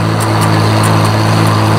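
A tractor runs steadily while mowing third-cutting hay in a field beside corn, its engine a loud, continuous droning hum with a constant pitch and faint periodic ticks, with no talking.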